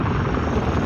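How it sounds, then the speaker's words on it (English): An overwatch helicopter in Call of Duty Modern Warfare 2 gives off a steady, loud rotor drone with a fast chopping pulse, alone and close. "Overwatch helo ready to deploy."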